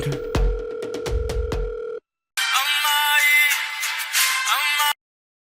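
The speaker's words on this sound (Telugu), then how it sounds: "రింగ్ అవుతుంది." A phone call rings out: a short burst of electronic ringing tones, then a brief gap and a loud, bright ringback melody lasting a few seconds, close and without talk.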